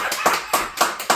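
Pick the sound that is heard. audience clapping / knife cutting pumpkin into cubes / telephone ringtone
audience clapping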